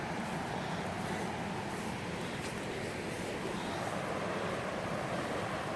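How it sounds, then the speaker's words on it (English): Small waterfalls on a hiking trail in Upper Michigan make a steady, dense rush of falling water, even and unbroken throughout, heard from a short distance. "But I see a lot of pretty little waterfalls."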